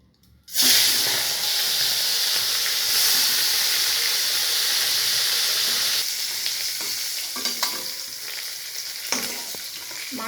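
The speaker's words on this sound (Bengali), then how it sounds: "প্রথমে আমি মাছের মাথাগুলোকে ভেজে নেব" Two hilsa fish heads, rubbed with salt and turmeric, fry in mustard oil with a loud, continuous crackling sizzle that starts abruptly and continues with small pops and stirring noises throughout.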